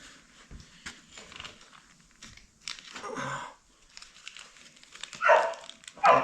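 A dog named Punk barks a few sharp times at moderate distance amid crinkling and rustling handling noise, the barks bunched toward the end.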